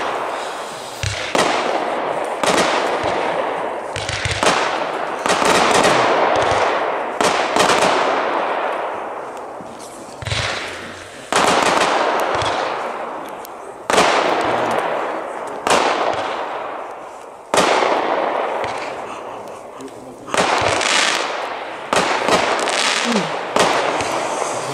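A Pyrocode 111-shot fireworks compound cake fired outdoors at a Nürnberg demonstration. Loud, rapid volleys of cracking shots come in a string of repeated bursts, each salvo booming and then decaying, over about twenty-five seconds.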